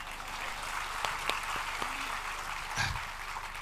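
Audience applause at a talk on Indian education, a fairly soft, steady wash of clapping that runs through the whole stretch with a few sharper individual claps standing out.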